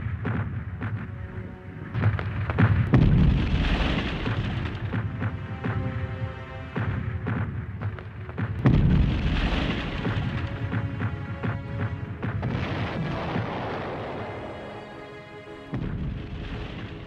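A heavy artillery shell-fire barrage from a 1916 battle, with loud, continuous rumbling booms and blasts rolling through the whole stretch and stronger surges near the start and midway.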